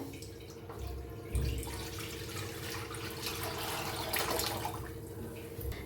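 Water is poured from a full jug into a pan while soaked rice waits nearby. It makes a steady close trickling and splashing that runs for several seconds at moderate level, with a brief thump near the start.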